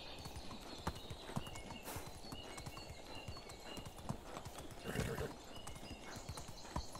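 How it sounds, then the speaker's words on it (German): Horse hooves galloping in the medieval life-sim game Medieval Dynasty, a steady rapid clip-clop rhythm at moderate distance with occasional louder thumps and a brief surge of noise midway. "Über Stock und Stein reiten wir in die Freiheit hinein."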